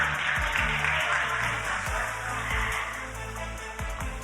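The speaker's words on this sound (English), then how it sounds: "Ladies and gentlemen, please give a big round of applause one more time." A forum audience gives a round of applause, a soft, diffuse wash of clapping heard from a distance and sustained for several seconds, with faint tonal sounds and low thuds underneath.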